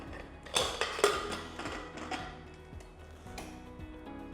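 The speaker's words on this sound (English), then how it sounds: "Now I will close the lid" A pressure cooker lid is closed over rajma, with two sharp metallic clacks near the start followed by softer scraping and tapping of metal.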